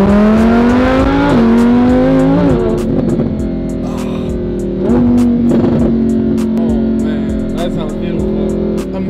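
A Lamborghini engine revs and accelerates loudly up close, pitch climbing and dropping through several surges, with voices talking over it.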